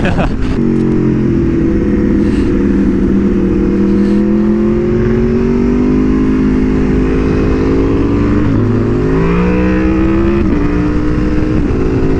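A loud drag car engine drones and rumbles steadily, its pitch sliding up and down, with a voice briefly speaking over the noise.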